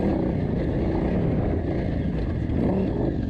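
A heavy KTM 990 motorcycle tears through the 2023 Mint 400 desert race, its engine and the rushing wind blending into a loud, steady, unbroken roar with no voices.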